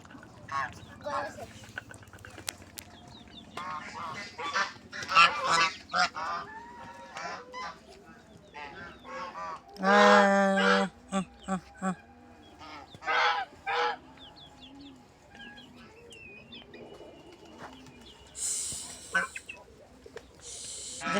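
Domestic geese honk in several loud, harsh bursts, close by, with the strongest calls clustered mid-way and again near the end, while people talk intermittently in between.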